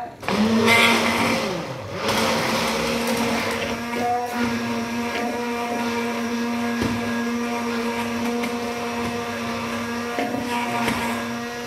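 A blender whirs steadily while mayonnaise is made, a loud, even motor hum after a brief rough start, running continuously with a slight change in pitch near the end.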